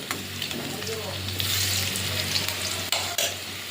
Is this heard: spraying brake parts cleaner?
no